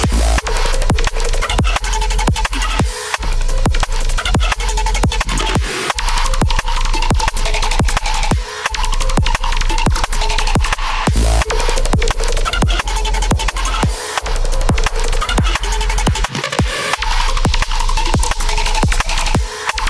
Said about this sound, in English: In context, the main bass I made with the Fox sounds like this.